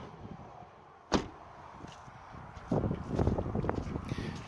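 A Honda CRX door is shut, one sharp solid slam early on, followed by low rumbling handling sounds and shuffling nearby.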